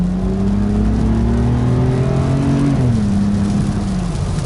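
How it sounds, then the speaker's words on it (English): A BMW 328i fitted with a custom exhaust accelerates hard on a wet, rainy road, heard from inside the car: a loud, steady engine drone climbs in pitch, drops briefly at a gear change, then pulls on, with strong intake noise over the exhaust. "You still hear a lot of intake noise over the exhaust noise"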